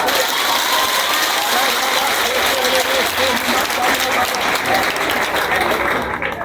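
A church congregation claps loudly and continuously in a dense, steady wave of applause at Trinité church, with crowd voices mixed into the clapping throughout.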